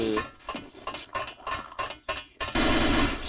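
Rapid gunfire in the Half-Life mod game Sven Co-op, a series of sharp shots in quick bursts followed by a loud sustained burst of automatic fire near the end.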